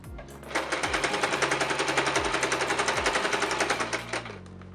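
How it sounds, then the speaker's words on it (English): A sewing machine stitching binding onto the edge of a ball gown petticoat skirt, a fast steady mechanical rattle running for several seconds after a brief start, close and loud, then slowing to a stop. "I'm sewing some binding to clean up the edge of my center back."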